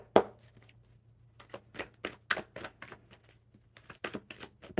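A deck of playing cards is shuffled at a live coffee-and-cards table, giving a brisk run of quick, crisp riffling clicks up close, moderately quiet and with no talking.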